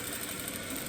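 A sewing machine runs steadily while stitching patchwork fabric for a cushion cover, a constant close mechanical whir and hum with no pauses or voices.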